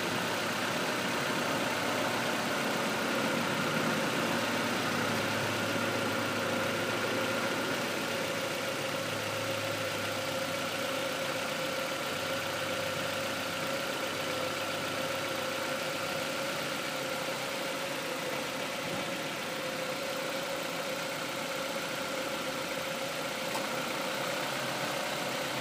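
2004 Nissan Altima with the 2.5 engine idling, a steady even hum with a slight tick, close and continuous with no talk.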